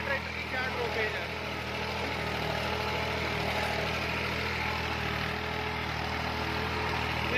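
A New Holland 4x4 tractor engine runs steadily after the clutch is released in high gear at about 2000 RPM, a continuous loud diesel drone with a broad, even rumble throughout, with no talk over it.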